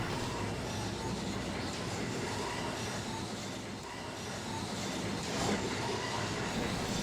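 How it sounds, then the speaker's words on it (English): Tram bogies rolling in the Trainz railway simulator game, a steady rumbling rail-vehicle drone with faint clickety-clack running continuously at moderate volume and no talk over it. "Interestingly, it apparently has bogey sounds even though it's supposed to fly."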